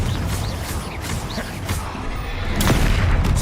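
A Confringo fire spell detonates during a Hogwarts Legacy battle, a loud booming blast amid steady combat noise and a sharp crack near the end, with the action sounding close.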